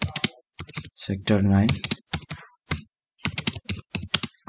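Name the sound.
typing on a computer keyboard in MS Word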